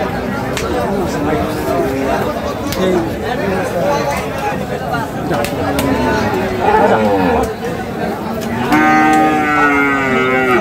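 Sahiwal bulls at a busy cattle market low and moo over steady crowd chatter, with one strong, drawn-out bellow near the end.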